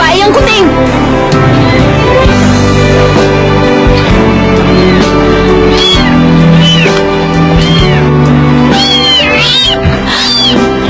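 A kitten meows repeatedly at close range, its cries rising over loud background music in a Korean comedy film, with people talking intermittently.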